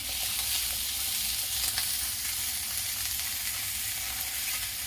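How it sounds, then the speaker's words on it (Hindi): Mixed vegetables stir-frying in a pan over a high flame, a steady close sizzle that holds evenly throughout with no talking. "हाई फ्लेम पर। इसे अधिक नहीं भूनना है।"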